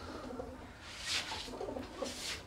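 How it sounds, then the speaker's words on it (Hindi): A pigeon coos in a cage indoors, two or three soft, throaty coos close by at a low level with no talk. "ये कबूतर है।"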